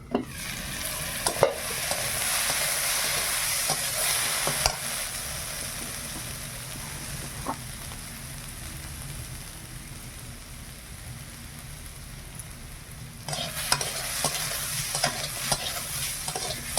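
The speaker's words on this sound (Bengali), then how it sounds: "আলুটা ভাজা হয়ে গেছে তুলে নে" Cut potatoes fry in oil in a wok and are stirred, a steady crackling sizzle with scraping strokes that is busier at the start and again near the end, with no talking.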